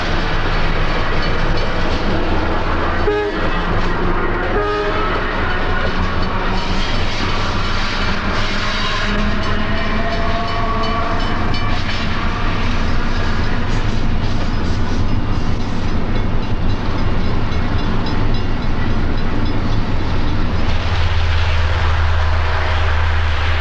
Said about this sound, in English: the locomotive heads east light to Gary, Indiana.